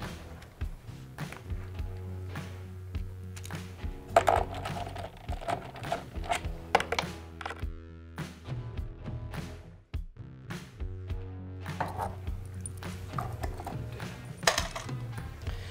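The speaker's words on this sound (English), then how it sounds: "Next, we're going to remove the bolts that connect the straps around the compressor." Bolts being removed from the straps around a Mantus scuba compressor, with close metallic clinks, taps and ratcheting tool clicks over a steady low hum, irregular and moderately loud without speech.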